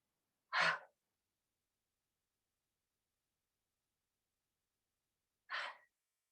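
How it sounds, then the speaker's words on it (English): Two heavy breaths are pushed out from the throat in a quiet room, about five seconds apart, each one short and breathy. "3 exhales from the throat here. Heavy exhales."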